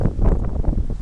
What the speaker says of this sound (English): It's very windy for Florida.